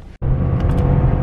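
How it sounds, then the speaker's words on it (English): A car drives fast with a loud, steady engine and road roar heard from inside, after a brief dropout at the start. "Man, this car is fast."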